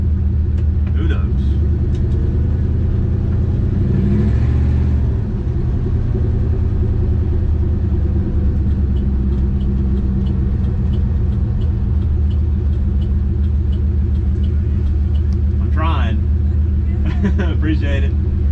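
A Turbo Valiant car's engine rumbles steadily and close up as it drives, a continuous low drone with brief bursts of talk and a few sharper higher sounds near the start and end.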